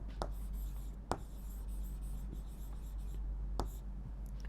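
Chalk or marker scratches faintly across a classroom board, soft rubbing strokes broken by a few sharp taps, quiet and close with no voices over it.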